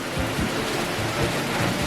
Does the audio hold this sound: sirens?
no